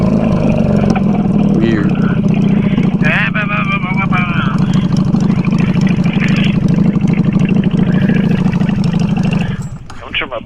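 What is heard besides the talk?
Honda Shadow Bobber motorcycle engine running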